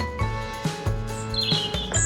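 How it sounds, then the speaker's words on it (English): Bird song for a nightingale, a few short chirping phrases with high whistled notes sounding over a steady backing of music or synthetic tones, brief and moderately loud. "A nightingale."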